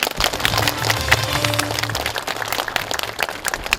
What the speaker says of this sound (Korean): 우리 윤경희 군수님께 우리 고맙다는 박수 한번 부탁드리겠습니다